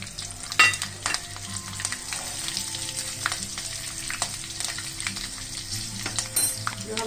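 Sliced long green chillies hit hot oil with mustard seeds, tempering for a rasila dhokla, giving a loud, steady crackling sizzle with sharp pops scattered throughout, close up and with no talking.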